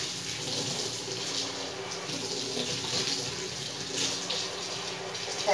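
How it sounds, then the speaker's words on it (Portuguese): Tap water runs steadily into a sink while hands are rinsed during handwashing, a continuous close splashing hiss that holds even for several seconds with no talk. "Fecha a torneira"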